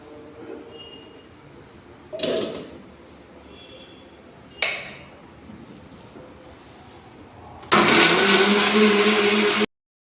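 A mixer grinder blending black grapes with salt and cool water, with short whirring pulses followed by a loud sustained roar of a couple of seconds that stops abruptly.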